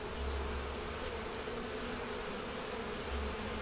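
A bee buzzes around a beehive being inspected, a steady low drone with a brief louder swell near the start and again near the end, set against broad outdoor background noise.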